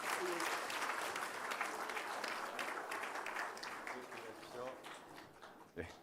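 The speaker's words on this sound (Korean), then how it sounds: "박수하겠습니다." Church congregation applauding after a prayer at a Korean service, dense steady clapping filling the room at full strength, thinning slightly near the end, with a few voices mixed in.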